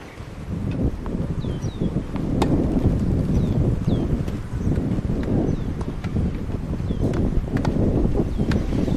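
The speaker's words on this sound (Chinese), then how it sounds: "开始起风喽。" Wind buffets an outdoor wheelchair tennis court during a national disability games final, a loud continuous rush of gusts and microphone rumble with faint scattered knocks and clicks beneath it.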